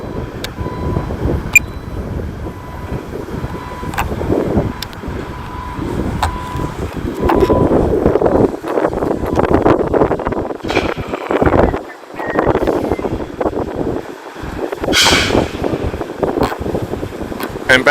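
Outdoor wind buffets the microphone in uneven rumbling gusts during a drone flight near an industrial distribution site, with occasional clicks and brief lulls.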